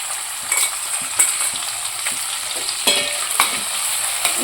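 Thinly sliced onions frying in hot oil with whole garam masala, a constant bright sizzle punctuated by several sharp spatula scrapes and stirring knocks, close and unaccompanied by speech.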